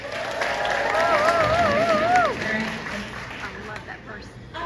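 An audience at a crochet yarn meet-up applauds and cheers, a full burst of clapping and whoops with a voice rising above it, then fading into scattered claps and murmuring chatter.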